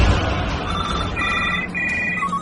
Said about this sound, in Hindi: उस दिन के बाद से ही ये सारे फोन रह रह के बज रहे हैं